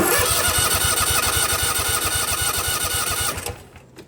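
A Husqvarna Z254F lawn mower engine cranks with a rapid, steady mechanical chugging, loud and close, for about three seconds before it cuts off and fades.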